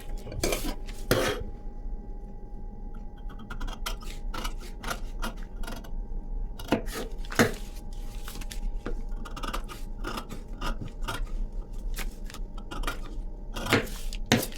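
Scissors cutting fabric for a 38-size princess-cut blouse, with repeated crisp metallic snips and blade clicks in short clusters over a quiet background, some faint scraping and handling in between, and no one speaking.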